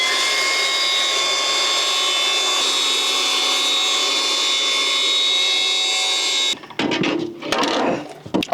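A Milwaukee 18V 165mm cordless track saw cuts through decking boards with a loud, steady high-pitched whine for about six seconds, then stops abruptly, leaving clattering handling noises as the blade spins down.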